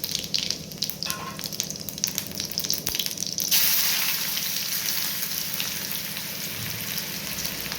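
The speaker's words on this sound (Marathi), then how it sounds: "दोन चमचे तेल घेतलेले तेल तापलेलं आहे त्यात थोडासा जिरा टाकून घेऊ" Cumin seeds dropped into two spoons of hot oil for a spicy Kolhapuri misal, giving a dense, steady crackling sizzle that shifts to a smoother hiss partway through, close and continuous with no talking.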